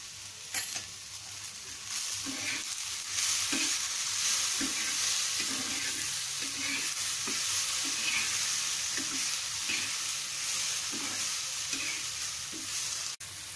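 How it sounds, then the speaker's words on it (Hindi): Moong and matki sprouts frying with salt and chili powder in a pan, a steady loud sizzle with repeated soft scraping strokes of stirring running through it, no voices. "अशा प्रकारे आपली मूग मटकी मस्त फ्राय झालेली आहे"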